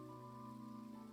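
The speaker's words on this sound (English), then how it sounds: "se pone a llover" Genshin Impact rain falling as a steady, even hiss under a sustained low game music drone, soft and continuous throughout.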